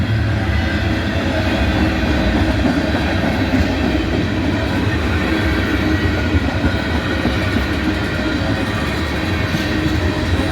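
A train rumbles steadily past at close range, a dense continuous roar of wheels and cars with faint clatter throughout.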